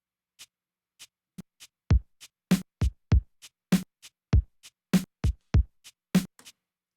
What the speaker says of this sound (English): And then I also added, I think, this kabasa.